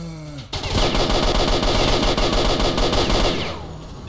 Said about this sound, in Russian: сколько еще надо выстрелов сделать